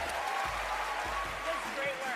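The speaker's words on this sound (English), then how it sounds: "A small round of applause." An audience at a magic show gives a small round of applause, a brief patter of clapping that runs under a performer's continuing speech.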